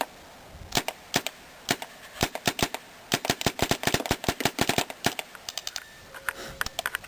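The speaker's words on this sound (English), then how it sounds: "Just going to be take a couple accuracy shots with this barrel" An Xtralator paintball gun fires accuracy shots outdoors: sharp, close pops arrive singly and in quick uneven bursts, several dozen in all, with brief pauses between strings.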